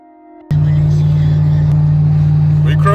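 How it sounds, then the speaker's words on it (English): A 2003 GMC Sierra truck towing a 442 Cutlass drives along, its engine a loud, steady droning hum that kicks in abruptly after a brief quieter moment and holds constant throughout. "This little old 2003 GMC Sierra is pulling that car with no problem at all."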